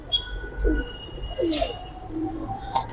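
Army pigeons of a Monster-generation line give low, throaty coos in a few short bursts, close by against a faint background hum, with no one talking.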